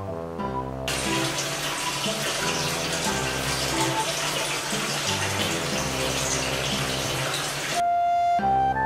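A shower in a rural Yamanashi cottage runs in a strong, steady hiss of falling water that starts abruptly and stops sharply near the end, with soft background music underneath.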